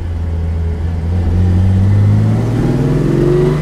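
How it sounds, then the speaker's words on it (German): A 1960 Mercedes 300 SL Roadster's engine revs up and holds a strong, steady drone, close and loud throughout, with pitch rising as it accelerates and no voices over it. "Mercedes 300 SL."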